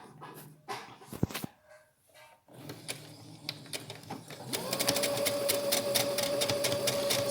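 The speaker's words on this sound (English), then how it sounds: "all I'm going to do is sew these two together with an overlap of about 2 centimeters" A sewing machine stitches two overlapping strips of fabric for a face mask with a filter opening, starting with a few short bursts, then running into a steady, fast, close mechanical whir that keeps going to the end.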